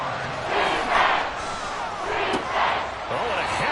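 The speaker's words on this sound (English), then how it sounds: "This crowd turning up the decibel level." A football stadium crowd roaring at a Chiefs versus Broncos game, a loud dense swell of cheering that rises and falls in waves.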